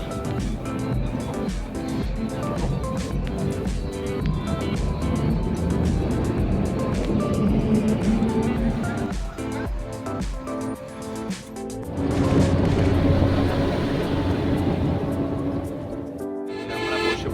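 A bus pulls away after a long wait in a traffic jam, giving a continuous low engine rumble and road noise heard from inside. The sound swells as it gathers speed and then eases.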